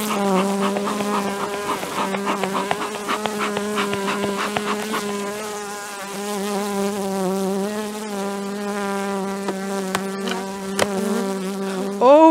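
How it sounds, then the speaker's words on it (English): Angry honey bees swarm around a beehive in early spring, a loud continuous droning buzz with many wingbeats overlapping close by, swelling and easing without pause. "These bees are really mean."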